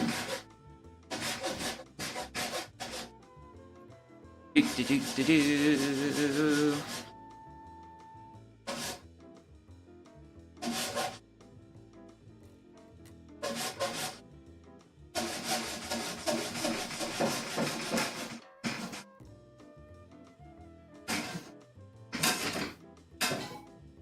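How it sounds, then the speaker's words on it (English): Bursts of rhythmic rasping strokes, like a hand saw cutting through wood, come in several runs separated by short pauses and a few knocks. "Hopefully you won't see me struggling too much with doing too much hand sawing"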